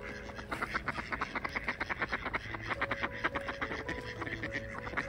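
Ducks eating birdseed alongside swans quack over and over in a busy, overlapping chorus close by, a rapid rhythmic chatter that goes on throughout.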